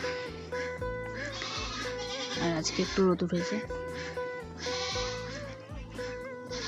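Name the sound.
goats bleating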